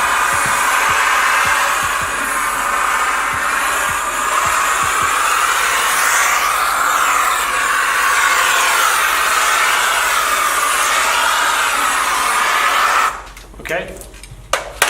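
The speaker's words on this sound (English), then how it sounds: "With the steamer, we're basically going to run it all across the top." A hand steamer runs along the tint film on a car window, giving a steady broadband hiss that holds for about thirteen seconds, with faint clicks beneath it, before cutting off into scattered handling noises.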